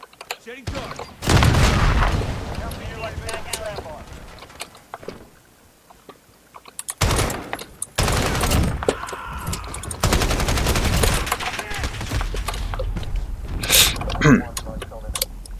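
Rapid bursts of AK automatic fire in Call of Duty: Modern Warfare (2019) multiplayer, several loud sustained volleys with brief gaps between them, mixed with game effects and a player talking over parts of it.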